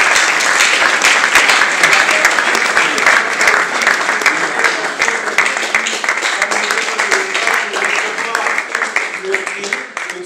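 Sustained applause from an audience at an awards ceremony, dense clapping that stays loud and steady for the whole stretch and fades slightly toward the end, with a voice faintly underneath.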